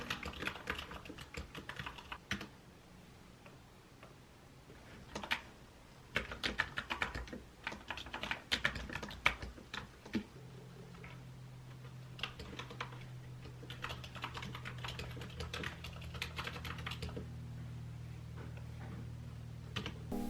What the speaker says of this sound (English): I really love the RGB backlight of it and the clicky sound it makes.